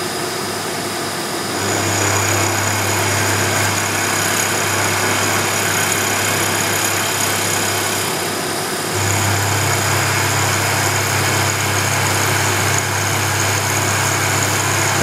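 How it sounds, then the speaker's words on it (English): A milling machine runs a carbide end mill at 1600 RPM while the workpiece is hand fed for an etching press handwheel, giving a steady, close motor hum with a broad hiss of cutting noise and a brief shift in pitch partway through. "Carbide end mill, 1600 RPM."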